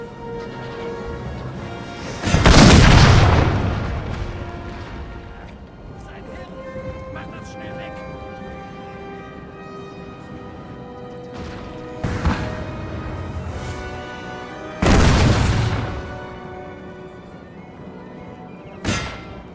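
Artillery cannons firing in the Napoleonic-era strategy game Napoleon: Total War, heard as a few heavy, loud booms spaced several seconds apart, with voices shouting commands between them.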